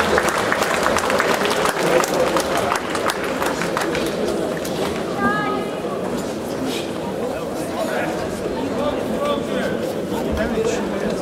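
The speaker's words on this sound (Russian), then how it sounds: "Давайте поддержим спортсменов аплодисментами" Applause from the audience at the 2016 Russian Kyokushin karate championship (IFK) for the athletes, a dense, steady wash of clapping mixed with crowd noise and voices throughout.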